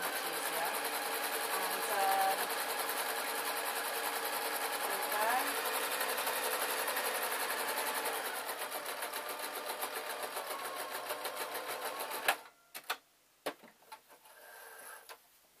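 A home sewing machine runs steadily, stitching a fabric strip over elastic for a small car bag stuffer, with a dense mechanical whirr that stops near the end, leaving a few clicks and handling sounds.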